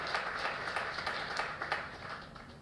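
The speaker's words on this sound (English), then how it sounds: "applaud those funders" Conference audience in Denver applauding funders, a steady wash of many hands clapping at moderate volume, somewhat distant and continuous throughout with no talk over it.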